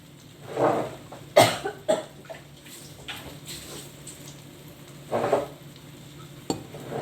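Baked and steamed tempe being stirred into sambal in a pan, with a few scattered scraping and clattering bursts of spatula against the pan over a soft background.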